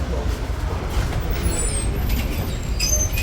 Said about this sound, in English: we're going to do an old tram ride here